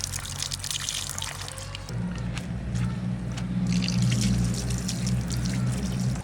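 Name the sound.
washing fish with water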